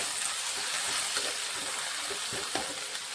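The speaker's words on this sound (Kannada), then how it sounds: "ಕರ್ಬೇವು ಸೊಪ್ಪು ಹಸಿಮೆಣಸಿನ್ಕಾಯಿ ಮತ್ತು ಟೊಮೊಟೊ ಇಷ್ಟು ಹಾಕ್ಕೊಂಡು ಸ್ವಲ್ಪ ಫ್ರೈ ಮಾಡೋಣ" Curry leaves, green chillies, garlic and tomato fry in hot oil in a pan for a capsicum palya, giving a steady close sizzle with soft stirring scrapes and occasional crackles.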